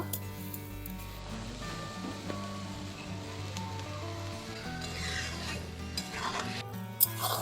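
Cauliflower and duck eggs stirred in a pan, giving a steady soft scraping and sizzling at moderate distance, continuous throughout with no voices.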